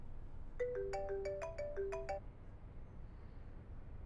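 A phone ringtone plays a short bright melodic tune of several quick tones, close and clear, then stops, leaving a quiet room.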